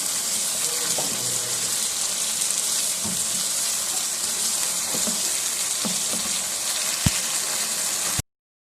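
Continuous sizzling of chickpeas frying in a pan, with occasional soft clinks and stirring sounds throughout.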